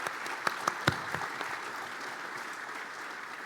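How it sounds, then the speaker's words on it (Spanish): Light scattered clapping from a small group at a conference panel, a few sharp claps standing out before it thins into quiet room noise. "Un aplauso."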